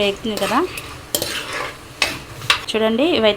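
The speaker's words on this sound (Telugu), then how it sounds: "ఇందులోనే పోపు దినుసులు, ఎండుమిరకాయ, జీలకర్ర అయితే వేసేసుకున్నాను." Dried red chili and cumin tempering in hot oil in a pan, heard as close sizzling broken by sharp metallic scrapes and clinks of a utensil stirring, with several distinct stirring strokes and no talk.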